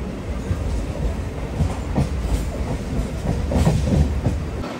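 MEMU passenger train on the Anantapur–Bengaluru line rumbling steadily along the rails, with rhythmic wheel clacks over joints and a continuous loud roar, heard from on board.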